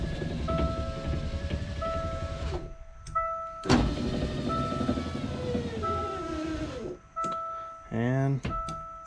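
A passenger-side power window on a Ford Foxbody whirs through several short electric motor runs with pauses and clicks between them, close by, with someone talking over parts of it.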